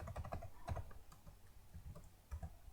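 Typing HTML code on a computer keyboard, a quiet, close run of irregular key clicks with brief pauses between bursts and no talk.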